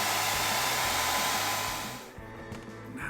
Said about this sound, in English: you could have a hairdryer to speed along the process